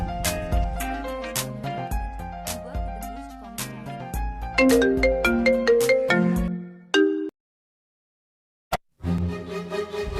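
A mobile phone plays a melodic electronic ringtone, loud and near, stopping abruptly before a short burst resumes after a few seconds of silence.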